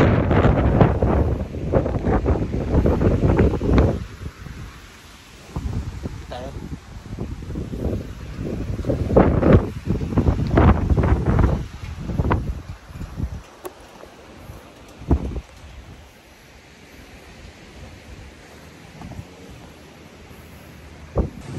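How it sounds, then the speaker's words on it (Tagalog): Strong wind buffets the microphone in loud rumbling gusts on a hilltop at Magsangyaw, Tupi, with people talking and exclaiming over it outdoors. "Grabe kalakas ng hangin dito"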